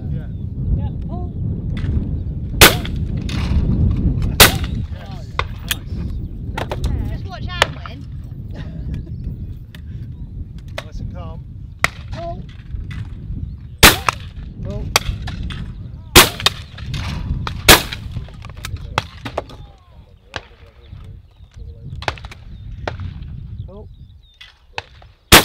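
Shotgun shots at clay targets on a sporting clays course at the Beretta World Sporting 2023, sharp cracks ringing out singly and in quick pairs across the stretch, with people talking quietly between them.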